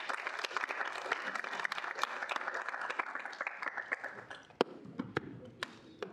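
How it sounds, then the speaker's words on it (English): An audience at a student senate meeting applauds, with dense steady clapping that thins into a few scattered claps near the end. "Want to give him a round of applause?"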